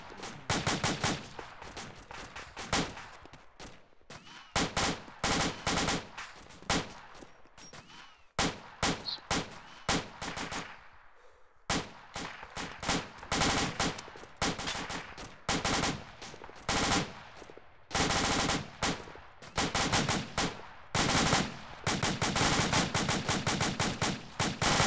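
Sustained machine gun fire crackles in long, dense bursts broken by brief pauses, loud and close throughout with more shots in the distance.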